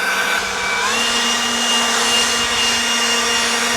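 A leaf blower on its turbo setting roars steadily up close, a continuous broadband whoosh with a faint high motor whine and no pauses.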